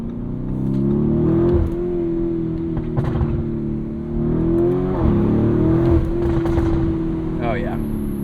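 A 2023 Lamborghini Urus S twin-turbo V8 SUV drones loudly and steadily from inside the cabin with the windows cracked, swelling in a few brief revs as it drives past shipping containers, with a voice speaking briefly over the engine.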